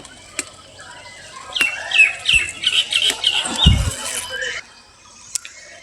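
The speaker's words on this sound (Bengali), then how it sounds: "সকালে পাখির কিচিরমিচির ডাক শুনতে ভালো লাগে।" Birds squawk and chirp on a rooftop garden in the morning, a busy burst of calls with a thump and fluttering wings in the middle, then quieter sparse chirps trailing off.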